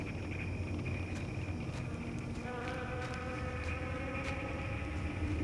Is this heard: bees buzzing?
yes